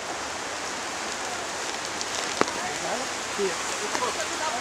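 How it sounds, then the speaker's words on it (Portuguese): Rain falling steadily in Prudentópolis, Paraná, Brazil, forming a constant broadband hiss of drops on surfaces with an occasional sharper tap, and faint voices may sit beneath it. "Apesar da chuva, né?"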